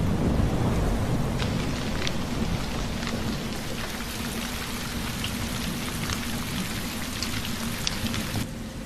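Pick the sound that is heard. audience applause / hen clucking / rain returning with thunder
rain returning with thunder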